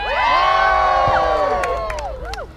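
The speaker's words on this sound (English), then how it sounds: "They are yelling and screaming uncontrollably." A crowd at a live event yells, whoops and screams loudly together in a sustained burst of cheering that tapers off near the end.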